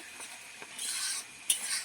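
Okra frying in a pan while a spoon stirs it, heard as a soft, continuous hiss with a couple of scraping stirs and a brief clink, close by in a home kitchen preparing festival food.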